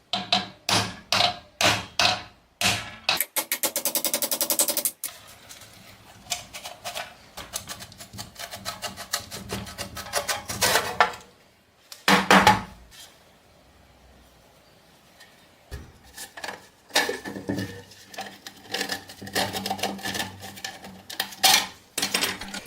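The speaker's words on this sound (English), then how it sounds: "Let's see if we can remove the magazine with what's known as hammer assisted magazine release." A hammer taps repeatedly on a badly rusted BAR rifle magazine to knock it loose: bursts of sharp metallic blows, then a quiet stretch, a single hard strike, and more irregular tapping.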